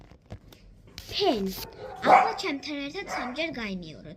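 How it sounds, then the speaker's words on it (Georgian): A pet dog barks and yips a few times nearby, its short bursts overlapping a voice speaking indoors. "ეს ჩემი ძაღლია და ხშირად ყებს ხოლმე"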